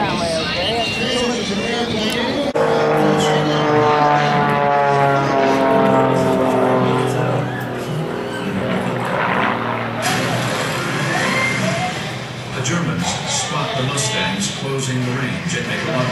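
A P-51 Mustang propeller plane drones steadily through the air at the Truckee air show, its engine tone shifting as it passes, with people talking over it.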